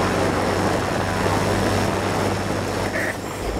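Junkers warplane in the World of Warplanes game passing close by, a loud steady propeller-engine drone filling the whole moment with no voices.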